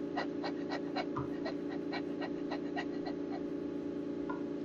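A person imitates a panting dog with rapid, rhythmic huffing breaths, steady and close, filling the whole stretch without talk.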